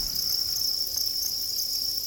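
A dense mass of crickets in a farm bin fills the air with a continuous, high, shimmering chirr, steady and loud with no pauses, and no talk.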